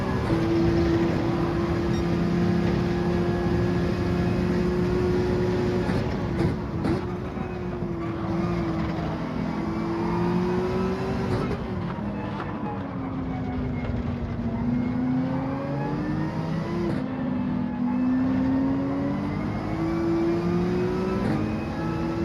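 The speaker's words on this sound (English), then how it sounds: "I know that Ferrari has an insane acceleration" Ferrari in a racing video game accelerating hard, a loud continuous engine whine that climbs and dips in pitch through the gears and corners, close and sustained without talk.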